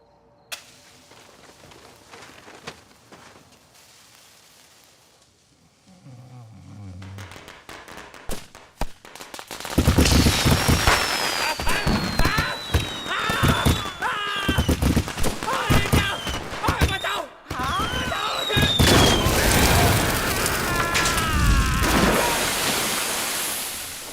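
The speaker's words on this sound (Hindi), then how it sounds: "कितने पटाखे लगाए तूने?" A long string of firecrackers goes off at close range, a dense crackle of sharp rapid bangs that starts after a quieter stretch of talk and keeps going for many seconds, with voices in the background.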